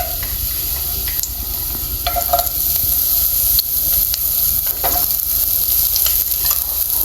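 Garlic sizzling in a hot pan, a constant crackling hiss with occasional sharper pops and stirring scrapes, close up and with no talking.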